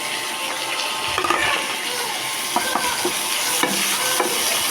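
Shrimp tossed into frying onions for a radish curry and stirred, a steady bright sizzle with repeated spatula scrapes and clicks against the pan.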